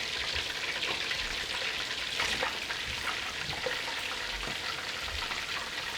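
Chicken chapli kebabs sizzle and crackle steadily in hot oil, a continuous close frying hiss with occasional louder pops.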